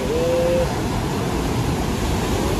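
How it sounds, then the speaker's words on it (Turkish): Ocean waves washing against a rocky shore at Mazatlan, a steady, loud broadband rush close by with no clear break between surges. "Dalgaya bak, dalgaya."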